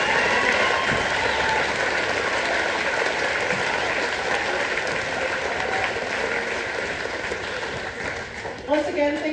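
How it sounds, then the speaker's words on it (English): A school gym crowd applauds student musicians at the end of a live concert. The clapping is loud and sustained for several seconds, then tapers slightly near the end. "another round of applause for these awesome student musicians"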